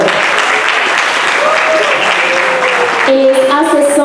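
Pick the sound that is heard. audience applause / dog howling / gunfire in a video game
audience applause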